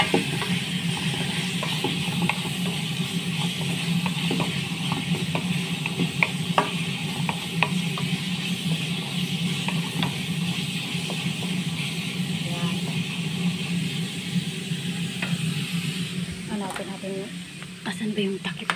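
Egg noodles stirred in a pan, a steady scraping and sizzling frying texture running throughout with occasional utensil clicks against the pan, fairly close, with faint talking in the background.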